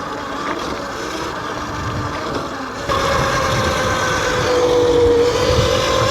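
Yozma IN 10 budget dirt bike riding along, its small engine droning steadily near the microphone with wind noise, revving a little higher toward the end.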